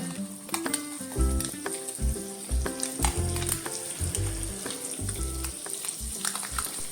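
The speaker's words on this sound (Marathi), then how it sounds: "अशकन एक एक करून फ्राय करून घेवचे।" Eggs fry in oil in a pan for a Konkani egg masala, giving a steady sizzle beneath loud rhythmic background music with a thumping beat throughout.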